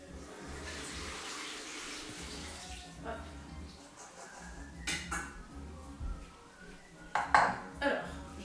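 Asparagus rinsed under running water in a kitchen, a thin faucet stream with clinks of dishes and cutlery, faint and intermittent beneath a speaking voice.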